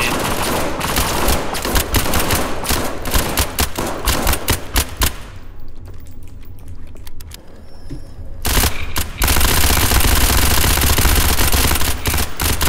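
Gunfire in the video game SCP Pandemic, loud dense bursts of automatic fire with a brief lull of quieter mechanical clicks before heavy shooting resumes.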